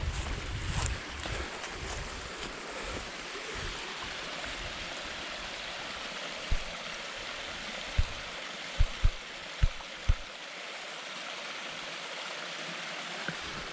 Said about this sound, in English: I got a waterfall.